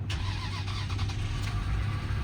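A 1999 Lexus ES300 car engine cranks and catches, then settles into a loud, steady rumble close by.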